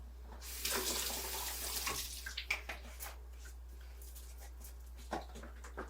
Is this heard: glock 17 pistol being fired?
no